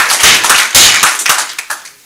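Short burst of audience applause at a city planning and zoning commission meeting, a few seconds of close, sharp clapping that quickly thins out to scattered claps.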